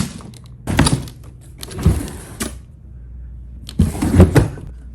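Kitchen drawers being slid open and shut in a freshly organized kitchen, with three separate sliding rumbles each ending in a solid thunk, spaced apart by quiet pauses.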